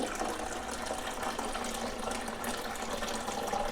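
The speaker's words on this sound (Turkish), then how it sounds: "Bakın buradan suyu ekliyorum." Water is poured into the reservoir of a Fakir Kaave Dual Pro coffee machine, a steady close trickling and splashing stream that runs unbroken throughout at moderate loudness, with no talking.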